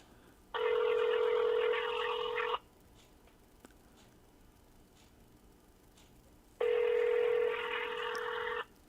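Telephone touch-tone dialing: two clear bursts of dual-tone keypad beeps, each about two seconds long, separated by a quiet gap, close and loud over faint room noise.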